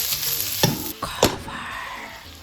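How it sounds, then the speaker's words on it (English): Garlic, onion, mushroom, tofu and carrots are stir-fried in a pan, a steady sizzle broken by a few sharp scrapes and clanks of a utensil stirring the food. "And now I will cook the stir fry first. Garlic, onion, mushroom, tofu, carrots,"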